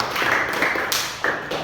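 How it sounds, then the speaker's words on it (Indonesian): Students clap in an Indonesian classroom during a religion lesson, a short burst of close, brisk clapping from a small group with some voices underneath. "Beri tepuk tangan."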